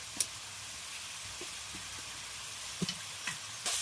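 Pointed gourd and prawns cook in a spiced mix in a pan, giving a steady close sizzle with a few soft stirring scrapes and light ticks.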